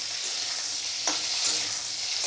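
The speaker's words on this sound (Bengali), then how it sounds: "এবার ঝিঙেগুলো 2 থেকে 3 মিনিট হাই ফ্লেমে একটু ভেজে নেব।" Sliced ridge gourd frying over a high flame, a steady close sizzle broken by a couple of brief stirring scrapes, heard alone without talk.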